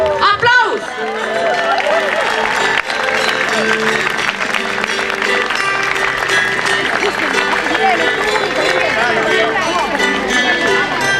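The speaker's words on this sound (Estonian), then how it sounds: "Aplaus!" Crowd applause greets the arrival of the Rapla county governor and municipal leaders at an Estonian public event, a dense continuous clapping wash with cheering voices and background music running steadily throughout.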